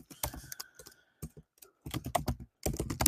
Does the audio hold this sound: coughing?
no